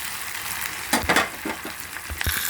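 Green chillies fry in hot oil for a mango, brinjal and green gram curry, producing a soft continuous sizzle broken by a few louder pops and stirring scrapes.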